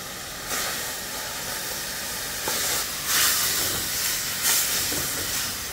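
Hissing, bubbling sizzle of liquid boiling in a pot with coconut added, with a few louder bursts of steam rising and falling over several seconds.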